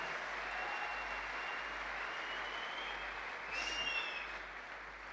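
Sustained applause from a seated audience at a stage event honouring a Diamond-level achiever, a steady wash of many hands clapping that holds for several seconds, with a faint whistle near the end and no talk over it.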